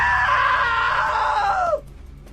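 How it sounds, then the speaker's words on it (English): A loud, sustained scream in the video game What Remains of Edith Finch, lasting nearly two seconds, then dropping in pitch and breaking off abruptly, leaving only faint background noise. "Now that was a great scream."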